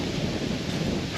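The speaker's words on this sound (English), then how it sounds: "It's pretty windy over here." Steady, broadband wind roar buffeting the microphone, loud and continuous with no voices.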